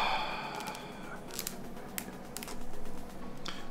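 Crinkling, tapping and cutting sounds from opening the packaging of Nokia phone accessories, with several sharp clicks and snips in quick, uneven bursts close by, and no talking.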